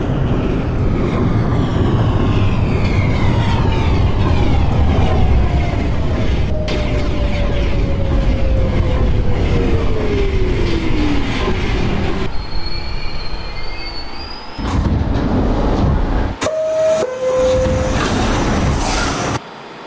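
In a train simulator game, an R46 G subway train rumbles into Bergen Street station loudly, and its wheels squeal in long, sliding high tones as it slows. A few shorter squeals follow near the end.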